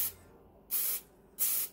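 Cooking spray spritzed onto a tortilla pizza in a home kitchen, three short, loud hissing bursts separated by brief pauses, with no voices.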